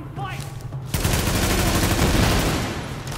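Gunfire in the video game The Division erupts as a sustained burst of rapid shots, loud and close, continuing for over two seconds.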